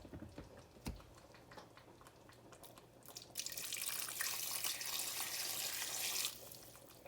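Water poured from a tap or vessel into a pot of green beans being cooked in seasoned broth, a few soft clinks first, then a steady splashing pour of several seconds that stops abruptly.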